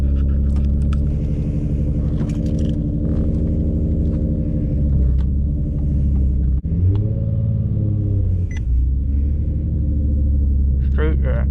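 A Nissan Nismo Z's engine rumbles loud and close while the car backs up slowly, a deep steady burble with a brief dip and swell partway through.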